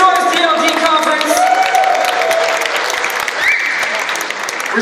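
A conference audience applauds and cheers loudly, with steady dense clapping, scattered whoops and crowd voices filling the hall throughout.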